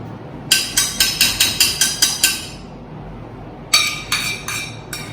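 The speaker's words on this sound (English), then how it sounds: "Now you take a baking dish." A glass baking dish clinks sharply up close: a quick run of about eight bright, evenly spaced clinks, a short pause, then four more fading ones.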